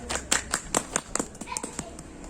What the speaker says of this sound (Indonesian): Kita beri tepuk tangan untuk teman